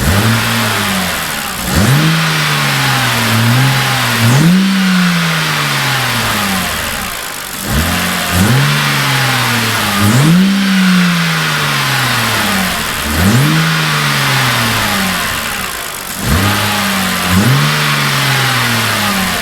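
A BMW N52 engine fitted with an aFe cold air intake revs hard in repeated bursts, rising and falling in pitch with brief idle dips between each rev, loud and close.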